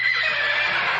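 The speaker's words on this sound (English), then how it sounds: "whenever someone says Blücher, we hear a horse whinny" A horse whinnies once in a short, bright, shrill burst, close and loud, used as a comic sound effect in Young Frankenstein.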